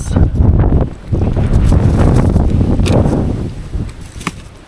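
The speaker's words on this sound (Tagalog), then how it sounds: "Grabe lakas ng hangin dito guys." Strong gusts on a mountain road near Malico, Pangasinan roar loudly and continuously against the microphone beside a parked Honda Beat scooter, with deep buffeting rumble and rustling trees for several seconds.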